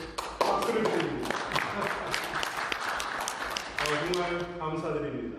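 A church congregation gives warm, full applause, with many hands clapping steadily for several seconds before a voice takes over as the claps fade.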